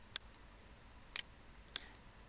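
Quiet, sharp computer mouse clicks, including a quick double click, sound alone against a soft background hiss while ductwork is edited in CAD software.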